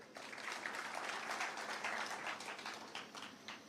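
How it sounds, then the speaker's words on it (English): A crowd at a pastoralist leadership summit claps for officials, with a soft, somewhat distant wash of applause that swells and then tapers off. "Please clap for them."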